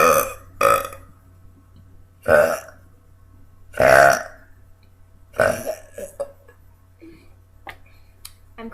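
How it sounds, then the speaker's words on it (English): A girl burps loudly several times after chugging a drink, four or five separate close, throaty belches spaced a second or two apart with quiet gaps between them. "I'm going to try and attempt to burp the alphabet"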